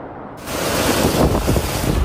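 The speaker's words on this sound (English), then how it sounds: "A severe thunderstorm in the middle of summer. Now it is absolutely hammering out here, bucketing down" Heavy summer thunderstorm rain pounds down outdoors in Geelong, a loud, dense roaring wash that starts abruptly and keeps going with gusty buffeting, no voices.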